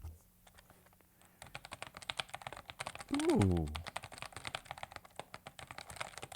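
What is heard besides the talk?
clicking buttons on a keyboard accessory's modifier keys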